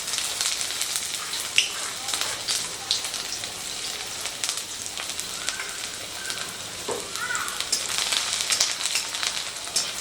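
Chopped ginger and garlic fry in roughly one and a half spoons of oil in a pan over lowered heat, giving a steady, close sizzle that crackles continuously with small pops.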